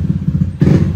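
Bored-up automatic scooter engine with a tuned ECU, blipped briefly: a loud, close, pulsing exhaust putter that surges sharply louder midway.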